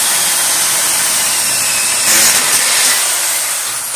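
A drill boring a guide pin hole through metal, with the workpiece set on the floor; a steady, loud broadband grinding whine runs the whole time, intensifying briefly partway through.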